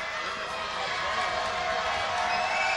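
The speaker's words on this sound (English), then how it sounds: "You hear the crowd getting behind him" A dense, steady roar from a cheering basketball crowd at a 2005 Crosby at Holy Cross game fills the space, loud and continuous from start to end, with a voice faintly audible under the din.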